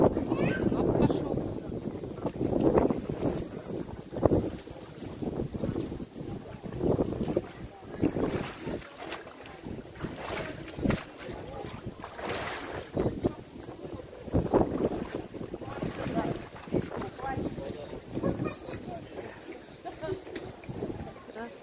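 Gusty seaside wind on a cool day, buffeting the microphone in uneven roaring bursts throughout, with people talking over it.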